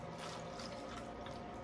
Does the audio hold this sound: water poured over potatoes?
yes